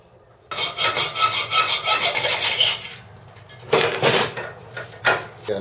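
Excess material is cut away with rapid back-and-forth rasping strokes, one long sawing burst followed by a pause and two shorter bursts, close and without voices.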